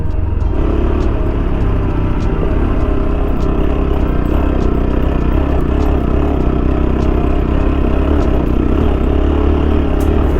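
A car climbing uphill on a rough trek road toward Mahalaxmi Gad, its engine giving a steady, loud, continuous rumble with some clatter throughout, no talking heard.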